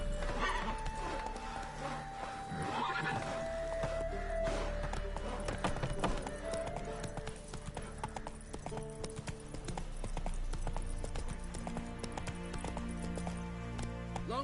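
Roach, Geralt's horse in The Witcher 3, with rhythmic hoof clip-clop on hard ground and a drawn-out whinny early on, all over a bed of music.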